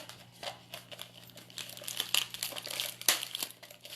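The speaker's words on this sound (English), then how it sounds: "I'm just going to put the plastic right over, the plastic bag over the opening, and pull the rubber band over it." A plastic bag crinkles and rustles as it is stretched over the opening of a homemade maraca and fastened with a rubber band, with close, busy crumpling that grows louder in bursts.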